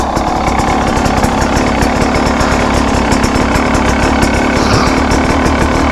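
2025 KTM 300 XCW Factory Edition two-stroke dirt bike engine running at a steady idle, a loud close buzzing rattle with a fast even pulse throughout, no talking.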